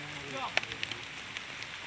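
Rain falls steadily at night while fishing gear for bass is packed up and loaded, a faint, even patter with a few sharper drips, and a voice is heard briefly at the start.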